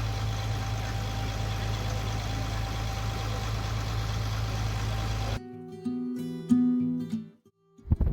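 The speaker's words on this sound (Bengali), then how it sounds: "যেই লঞ্চে যাত্রা করেছি সেই লঞ্চের ইঞ্জিনটা বিশাল বড়" A large engine aboard a passenger launch boat on a waterway drones loud and steady with a deep rumble, then cuts abruptly to quieter tonal sounds and clanks near the end.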